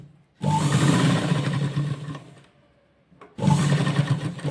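Sewing machine stitching together the layers of a double-layer lehenga, running in two loud, steady bursts with a brief slowing pause between them, close and alone.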